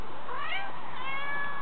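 A cat of about four and a half kilos meows in a short, clear, rising-and-falling call, close and fairly loud, with no talking over it.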